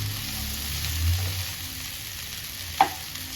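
Okra sizzles in oil in a pan while being stirred, with a steady frying hiss, a low scraping of the spatula early on, and a sharp clink near the end.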